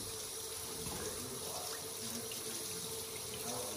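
Crabs for a seafood boil rinsed under a running kitchen tap, a steady close broadband splash of water pouring over shells, even and continuous throughout with no talk.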